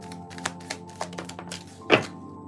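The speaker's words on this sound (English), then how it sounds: "my spirit is calling for me to continue to shuffle" A deck of tarot cards being shuffled by hand, giving a run of quick, light papery taps and riffles spaced irregularly, close by, with one louder flutter near the end and no talking.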